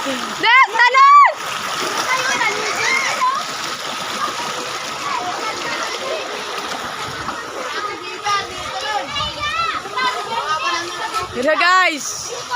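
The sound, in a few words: children jumping and splashing into water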